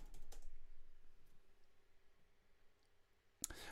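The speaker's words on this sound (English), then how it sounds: "We do some typing here on my iPad." Fingers tapping on an iPad touchscreen keyboard, a few soft, faint clicks early on and near the end over a quiet background hum.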